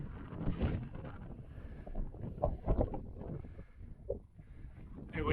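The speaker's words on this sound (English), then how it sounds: "Bit windy" Wind gusts buffet the microphone on an open hillside during a long hike near Nicky Nook, a steady rumbling roar that swells and eases. Footsteps or faint handling sounds surface underneath, and no one speaks.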